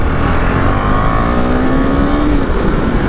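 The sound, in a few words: KTM Duke 390 motorcycle being ridden hard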